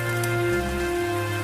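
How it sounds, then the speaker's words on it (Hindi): Heavy rain pours steadily on a surface, a dense continuous hiss with a low sustained drone underneath throughout. "बारिश और तेज हो गई।"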